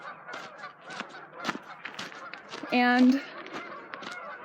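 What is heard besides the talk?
geese honking outdoors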